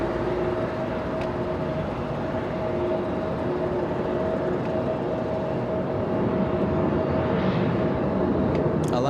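A Swiss airliner on final approach to the runway at LAX, a steady broad jet roar with a faint whine that holds level and swells slightly toward the end.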